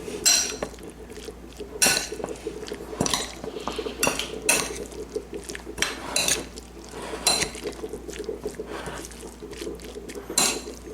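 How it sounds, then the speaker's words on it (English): A spoon clinks and scrapes against a bowl while pineapple cilantro salsa is mixed, with repeated close, bright strikes every second or so over a low steady background hum; no one speaks. "I put the other half of the half into the salsa. Then you want to mix that together."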